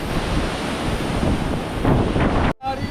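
Rushing water from a waterfall at Grahan village mixes with gusting wind buffeting the microphone, a loud continuous roar that cuts out abruptly near the end.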